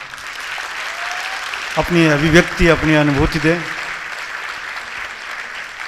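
An audience applauds at the end of a Hindi stage play, clapping steady through the clip while someone speaks into a microphone over it.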